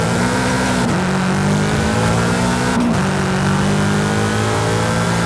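A tuned car in Forza Horizon 5 revs hard under full throttle, its loud steady engine drone climbing in pitch with brief dips at gear shifts, no talk over it.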